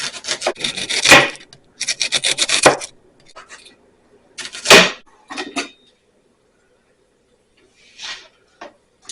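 Knife chopping onions on a wooden board, with a few bursts of quick, close, dry chopping strokes separated by quieter scraping and gaps.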